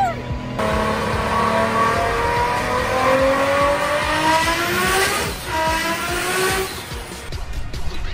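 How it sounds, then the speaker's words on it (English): A 1000-horsepower Nissan Skyline GTR engine revs hard and accelerates, rising pitch sweeping upward through sustained loud roaring over about seven seconds, with a brief tire squeal and the car passing close by. "That is what a 1000 horsepower sounds like!"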